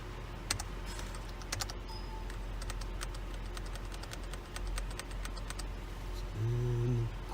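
Computer keyboard typing inside a police vehicle during a Seattle ride-along: scattered, irregular key clicks over a steady engine and cabin hum, with a louder droning tone near the end.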